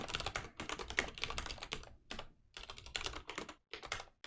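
Rapid, continuous typing of code on a computer keyboard, close up, in dense clattering runs broken by a few short pauses.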